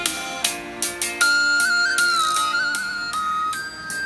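Music from an LG G6 phone speaker, with plucked, bell-like notes and a sustained melodic line, fairly loud and close, with no talking.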